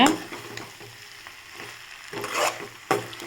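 Okra being sautéed with spices in a pan, a continuous close sizzle broken by a few bursts of stirring and scraping, with no talking.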